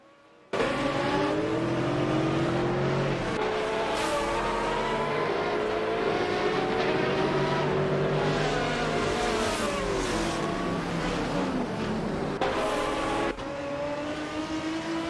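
GTR race cars at Road Atlanta, several engines revving and shifting through gears in overlapping high whining sweeps as cars pass, loud and continuous with a sudden start, no speech.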